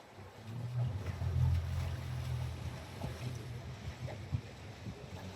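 A private scenic cruise boat setting off in Freycinet National Park, Tasmania, gives a low engine rumble that builds and then holds steady, with wind buffeting the microphone.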